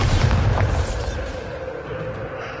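A Bombarda explosion spell cast in the Hogwarts Legacy video game, producing a loud, sustained rumbling boom that starts heavy and slowly tapers off.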